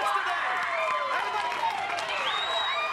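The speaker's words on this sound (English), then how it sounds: "And the crowd is loving it." Crowd at a 2015 Little League Midwest Region final baseball game in Webb City, Missouri, cheering and applauding loudly, with whoops rising over sustained clapping and a commentator talking over the noise.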